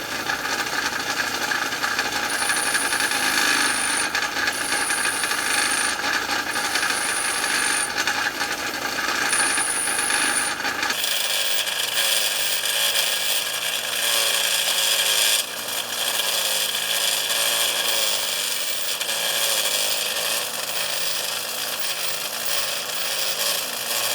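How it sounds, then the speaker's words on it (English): An old, worn bench grinder grinds a bevel onto metal pieces for a homemade overhead hoist. A loud, continuous abrasive whine and rasp runs throughout, and its tone shifts partway through. "Got the old worn out grinder, so I gotta give it the pre-spin."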